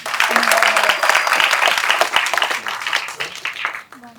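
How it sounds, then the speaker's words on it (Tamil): An audience applauds at a school event for a film, dense crowd clapping that stays loud before thinning toward the end, with voices mixed in. "கைத்தட்டுக்காங்க."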